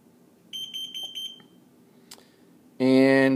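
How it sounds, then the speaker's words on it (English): A gas detector alarm beeping at 10 parts per million, four quick high beeps followed later by a loud, sustained alarm tone, over faint background noise. "So you'll hear the beep."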